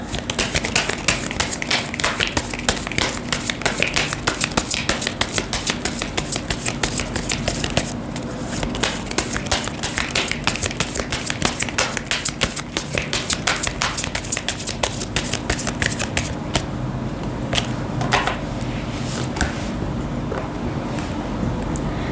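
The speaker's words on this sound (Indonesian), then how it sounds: "Oke, kita akan ambil satu kartu lagi." Tarot cards are shuffled by hand in a continuous rapid flutter of dense papery clicks that runs for over twenty seconds, with no talk.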